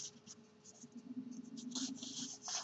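Glue is rubbed onto paper while making a pouch, giving a soft, steady scratchy rasp close by at low volume, with no talking.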